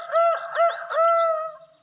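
A rooster crows close and loud in several bright, rising calls with brief gaps between them, the last one drawn out before fading.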